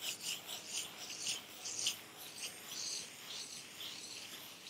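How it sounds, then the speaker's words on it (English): Light, rhythmic rubbing of a sanding pad over chalk-painted furniture, soft repeated hissing strokes up close, with no voices. "take my sanding pad here and just give it a light sanding"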